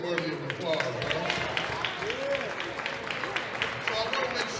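An audience at an African Heritage Day gathering in a state house claps and cheers in a sustained burst of applause, while a person keeps talking over it.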